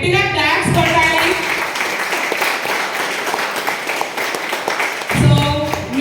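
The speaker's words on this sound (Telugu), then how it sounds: "మరి సార్కి గట్టిగా క్లాప్స్ కొట్టాలి" An audience at a meditation training session in Hyderabad applauds a speaker, a sustained wash of clapping lasting several seconds between stretches of amplified talk at the start and end.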